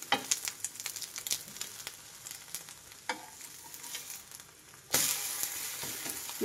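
A capsicum egg omelette fries in a pan, soft steady sizzling broken by scraping spatula strokes, then a sudden louder burst of hissing as it is pressed.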